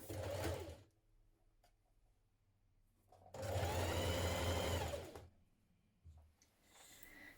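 A sewing machine stitches a shirtdress seam in two bursts, a short run then a longer steady whir, with quiet pauses between and no talking.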